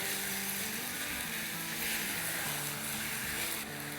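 Minced meat and onions fry in a pan over a medium-high flame, giving a continuous, even sizzle with a faint steady hum underneath.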